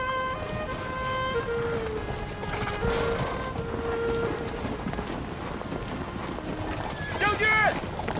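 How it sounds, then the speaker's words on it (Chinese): Horse hooves clip-clop amid a battle scene in a period war drama, rhythmic beats under raised voices and a sustained tonal sound, with a louder burst near the end. "把我的马牵来！"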